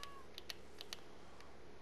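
Short meows from cats in Minecraft, a few quick faint calls spaced apart over a low steady background, with no voices.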